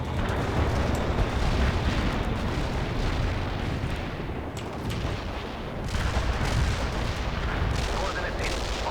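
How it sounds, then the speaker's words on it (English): Artillery barrage explosions in the war strategy game World in Conflict, a dense continuous rumble of booms and blasts with crackling gunfire layered throughout, loud and sustained for the whole stretch. "We can deploy and lay down a heavy barrage."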